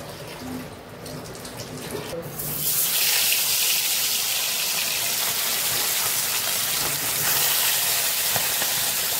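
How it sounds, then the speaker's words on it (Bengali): A broad sizzling hiss swells up after a couple of seconds and holds steady as fish fry in oil in a wok, close and fairly loud. "মাছগুলো ভেজে নিব এক করে।"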